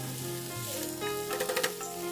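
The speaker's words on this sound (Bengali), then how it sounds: "এবার হালকা হালকা এগুলোকে 2 থেকে 3 মিনিট ভালো করে নাড়াচাড়া করে ভেজে নিতে হবে।" Fried rice stir-fried in a pan, with a steady sizzle and scraping stirring strokes, close up and continuous over about two seconds.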